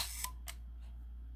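A Kodak Signet 40 35mm camera shutter gives two sharp, close mechanical clicks a quarter second apart over a faint steady hum, then quiet.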